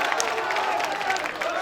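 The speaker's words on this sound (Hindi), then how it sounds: "जोरदार तालियां बजाए हुए सद्दाम के लिए।" Audience at a mushaira poetry gathering applauds the poet Saddam, a dense, steady wash of clapping and crowd noise filling the short moment without pause.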